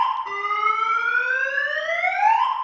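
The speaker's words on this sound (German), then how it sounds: "bis die Alarmanlage den Alarm auslöst" A Pandora Smart Pro car alarm sounds on a Nissan GTR, a loud, continuous electronic tone that sweeps steadily upward in pitch, heard alone.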